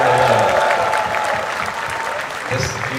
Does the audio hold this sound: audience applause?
yes